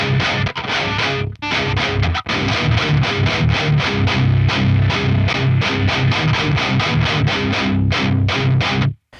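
Thick, heavily distorted electric guitar through a Revv Generator 100R Mk. III amplifier with the fat switch on, strummed in a steady driving rhythm, loud and dense with a heavy low end, ending abruptly.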